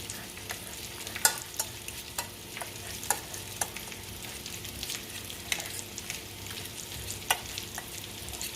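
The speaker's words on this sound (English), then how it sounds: "And then we just go in and mash it like that." Potatoes with milk and white pepper are mashed by hand in a pot, giving soft, irregular squishing and scraping thumps at close range with no talking.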